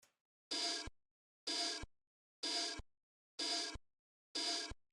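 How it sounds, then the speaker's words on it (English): A spatial effect on a type beat in the style of Twenty One Pilots' Overcompensate turns the hits into airy, noisy bursts. Five evenly spaced swells each end in a short low thump, with silence between them and no voices. "Also added this spatial effect to give it more noise."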